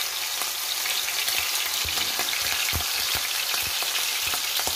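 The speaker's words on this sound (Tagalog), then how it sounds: "Ayan, mainit na. Ilagay na natin ang fishy." Fish fries in a hot pan for a Filipino ginisa dish, giving a loud, dense, continuous sizzle with scattered pops and crackles, close and with no talking.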